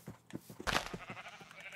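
Sheep bleating in Minecraft, a few short nasal bleats close together with one louder bleat near the middle, over a soft game background.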